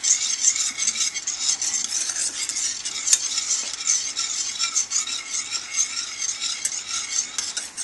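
A utensil stirs a thickening roux and milk mixture for sausage gravy in a pan, giving a steady, close scraping and swishing with a light sizzle underneath and no talking.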